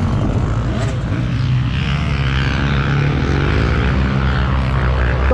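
A Can-Am 450 enduro motorcycle engine runs loud and steady nearby, a continuous buzzing drone that stays level throughout with no talk.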